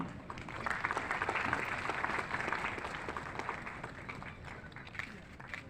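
An audience at a National Voters' Day event applauds as someone takes the stage, a soft, sustained wash of many hands clapping heard from a distance, easing slightly toward the end.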